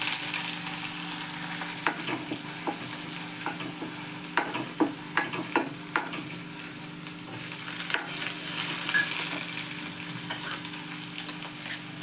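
Curry leaves hit hot tempering oil with mustard seeds, giving a steady close sizzle punctuated by a cluster of sharp crackles and pops midway.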